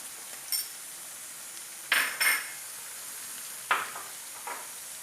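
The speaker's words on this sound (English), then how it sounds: "mustard seed. Wait till it splatters." Mustard seeds crackle in hot oil for a Kerala-style buffalo beef fry. A faint steady hiss carries a handful of sharp, separate pops and spatters spread over a few seconds.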